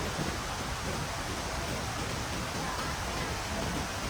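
Heavy rain falls near Bomburu Ella waterfall, a steady, dense hiss that fills the whole stretch at an even loudness with no pauses.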